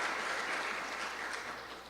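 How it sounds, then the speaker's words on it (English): A room of listeners gives a round of applause for five poster presenters at an academic session, dense even clapping that holds steady and fades slightly toward the end. "give just a collective round of applause for all 5 of our poster presenters"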